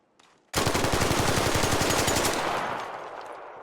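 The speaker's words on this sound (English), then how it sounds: "I had to unload the whole clip on him." Stitcher gun in the video game Arc Raiders emptying a full magazine in one continuous rapid burst, loud and close, with evenly spaced shots before the last report rings out and fades.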